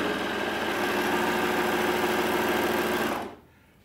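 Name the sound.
Juki MO-2000QVP serger running fabric through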